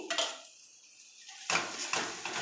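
Ginger paste goes into a pan of chicken and apple curry and a metal spoon scrapes and clinks against the pan, in two short bursts separated by a quiet pause, close and crisp.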